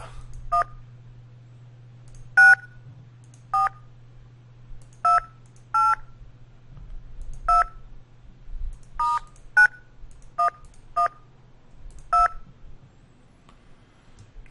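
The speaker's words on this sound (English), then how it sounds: "Alright, gonna dial those numbers into the phone," Touch-tone keypad beeps from a phone being dialed in the Tex Murphy: Overseer video game, about a dozen short separate tones at irregular intervals over a steady low hum.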